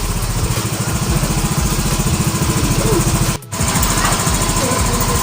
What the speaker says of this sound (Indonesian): ini hasil review ya dari motor ini yang ketika berjalan tersendat